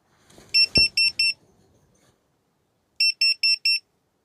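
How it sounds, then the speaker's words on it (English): A small carbon monoxide alarm in a tent at a forest campsite sounds two bursts of four sharp, high beeps separated by a pause, with a soft knock just before the first burst. "I've got this little carbon monoxide alarm"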